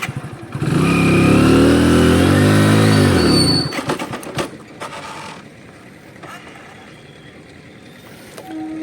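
A motorcycle engine, in fourth gear with the clutch released, is revved hard in a loud, close, rising and falling roar for about three seconds, then drops to a low idle with faint clicks.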